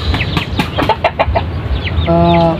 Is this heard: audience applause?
no